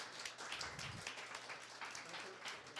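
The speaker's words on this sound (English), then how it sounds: "please give him a big round of applause to Dr." Audience applause closes a talk at an academic workshop, a dense, steady wash of clapping running the full length at moderate volume without pause.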